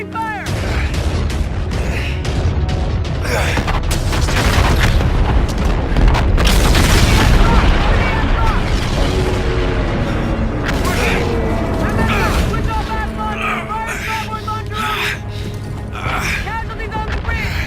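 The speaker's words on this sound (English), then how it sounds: "Guns! Swivel mount Mark 1! Open fire! Open fire!" Call of Duty Infinite Warfare space battle with loud, continuous booming explosions and heavy weapons fire, rumbling and crackling throughout, with shouted commands over the noise.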